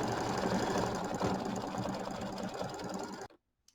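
A computerized embroidery machine stitches a red flower design in 800 red thread for a mini quilt, a steady close whirring hum that runs for about three seconds and then stops abruptly.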